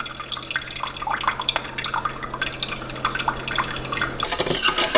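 Water drained from rehydrated freeze-dried cherries into a pan, a steady trickling and dripping pour that grows louder and splashier near the end, heard alone without speech.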